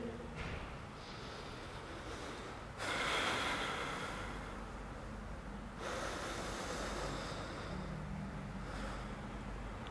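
Slow yoga breaths taken against a wall, long audible exhales and inhales heard close and soft, with steady airy breath noise and pauses between.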